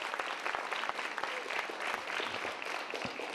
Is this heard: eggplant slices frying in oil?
no